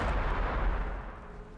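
A grenade detonates in the Warhammer 40,000: Battlesector strategy game as a heavy, booming blast with a deep rumbling tail that fades over a second or so.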